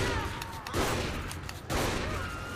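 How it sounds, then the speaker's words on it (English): Two heavy shotgun blasts from the game Saints Row: The Third, each a loud booming hit followed by a short decaying tail, spaced about a second apart. "Oh, I love this shotgun. It's so awesome."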